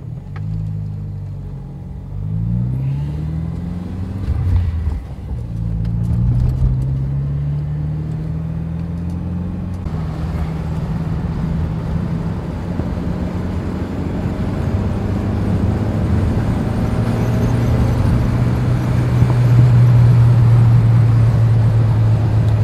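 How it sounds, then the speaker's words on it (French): A Mercedes 190E engine drones steadily while driving, with low rumble and rising pitch as it accelerates; no voices, constant road noise throughout. "Et on va rouler avec cette voiture."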